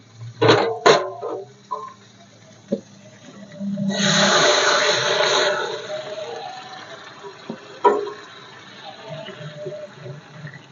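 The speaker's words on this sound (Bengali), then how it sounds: "এবার জল দিয়ে দেবো।" Water is poured into a pan of rohu fish curry after the spice paste has been fried, a gushing splash lasting about two seconds up close, followed by quieter simmering and scattered kitchen clatter.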